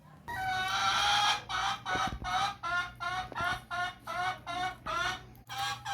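Hens in a henhouse clucking and squawking close by, a loud run of repeated, rhythmic calls following one after another with short pauses between them, with no talk over them.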